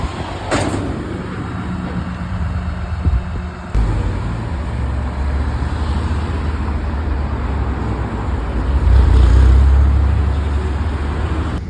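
A GT1 hypercar moves along a Paris road amid traffic noise, its low engine drone swelling louder and nearer toward the end, with a brief sharp clack near the start.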